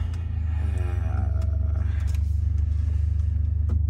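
A 2017 Mercedes A45 AMG with about 70,000 km runs in Sport Plus mode, its engine and exhaust giving a steady, deep, throbbing rumble close by, with faint voices in the background.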